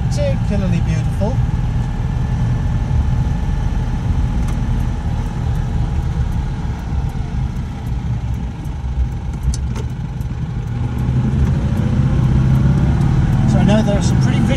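A Citroen Ami 8 runs over a series of speed humps without slowing, its small engine droning steadily at close range with road rumble and occasional thumps, while a person talks over it throughout.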